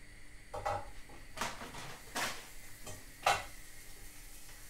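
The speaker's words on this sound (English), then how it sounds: "Well, I'm going to stick them in the pan." Frozen Iceland doner kebab meat slices going into a dry frying pan on medium heat, giving a few soft bursts of sizzle and scraping pan contact amid light kitchen clatter, fairly quiet and close.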